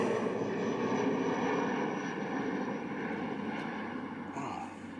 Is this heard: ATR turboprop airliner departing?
yes